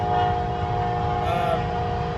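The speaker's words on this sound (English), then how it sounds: "we got a train passing" A train rolls past a roadside stop with a low continuous rumble of wagons and a sustained steady horn tone held throughout, fairly loud and close.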